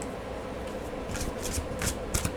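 Tarot cards being shuffled by hand, producing a few quick soft riffling bursts close to the microphone over a quiet background.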